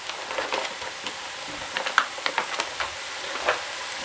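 Microwavable rice sizzles in a pan of frying onions, a steady faint crackle with scattered sharper pops and occasional stirring sounds, no voices.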